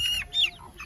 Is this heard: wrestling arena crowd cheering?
no